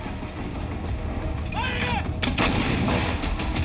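A heavy Indian-made long-range artillery gun fires with a sharp, booming blast partway through, over a steady low rumble, with a faint whistling tone just before.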